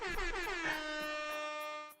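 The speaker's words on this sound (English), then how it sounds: "Did you do the air horn when you got to tier 3?" A single sustained air horn blast sounds during an online board game session, a loud, harmonically rich blare lasting nearly two seconds before cutting off.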